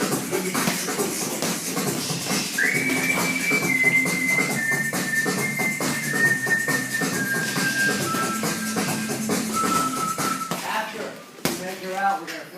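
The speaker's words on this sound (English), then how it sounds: "Now whistle. Let me hear you whistle." A long whistled tone slides gradually downward over busy rhythmic tapping and thumping, ending in a short burst of sharper sounds.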